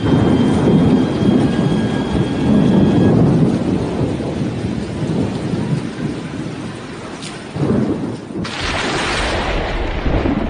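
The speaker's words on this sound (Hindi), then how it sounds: "ये शोर है उम्पुन तूफान का" A constant, loud roar of Cyclone Amphan in West Bengal and Odisha, howling wind and pouring rain, easing slightly midway before a sharp gust surges near the end.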